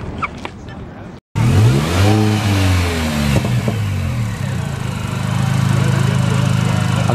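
A clean Mini Cooper S with aftermarket work revs up after a short cut, its engine note rising and falling in a couple of sharp blips, then settling into a steady, building drone nearby.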